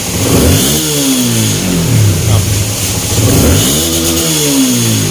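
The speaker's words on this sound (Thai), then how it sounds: "ครับเร่งนี้ตัดเลยครับหมื่นรอบ" A Kawasaki-style EX150 motorcycle with a 60 mm ceramic cylinder revving hard near the mic, the engine climbing repeatedly to the rev limiter and falling back in loud sweeping pulls over a steady idle rumble.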